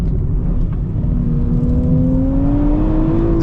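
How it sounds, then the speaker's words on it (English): Engine of a 2025 Nissan Z Nismo pulling at full throttle from middling revs, a steady loud drone with a rising tone as speed builds, alone without talk. "That's full throttle"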